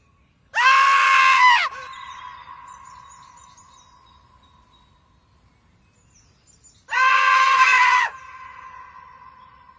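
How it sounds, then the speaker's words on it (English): A screaming marsupial in a meme: two loud, harsh, tonal shrieks several seconds apart, each lasting about a second with a ringing tail that fades into quiet. "Was sent in by Jenny Dempsey, which was the screaming, I guess it was like marsupial or something like that, into the distance."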